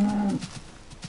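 A cow in the farming video game Forestry gives a short low moo that fades into quiet game ambience, with no talking.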